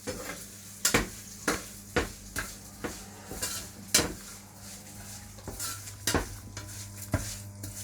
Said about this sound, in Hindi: उसके बाद में अपना जवे डाल देते हैं, इनको भी हल्का सा भून लेंगे।